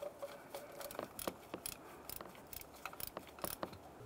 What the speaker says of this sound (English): we'll continue on with tightening each of the two mounting bolts